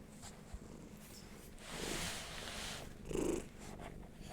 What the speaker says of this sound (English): So I hope you like purring.